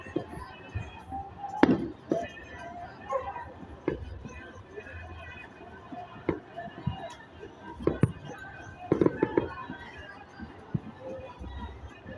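Fireworks going off at a night celebration in Kampala, scattered sharp bangs and pops at irregular intervals over a murky background of distant crowd noise and voices.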